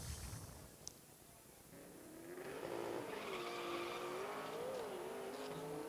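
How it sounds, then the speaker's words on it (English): Drag racing car launching from the starting line at an NMRA/NMCA event in Chicago, its engine note faint and distant, rising in a long wavering sweep over steady background rumble. "Alan Can spinning the tires just a little bit when he leaves the starting line"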